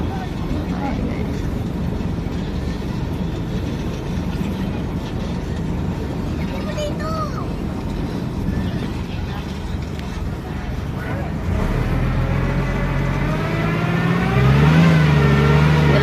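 A loud motorboat engine drones steadily throughout over strong waves, growing louder and rising in pitch near the end, with rushing water noise and occasional voices underneath.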